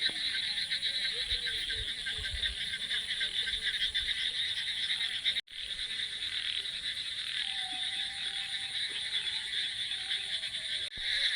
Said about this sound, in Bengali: ঝিঝি পোকা ঢেকেই যাচ্ছে দেখো।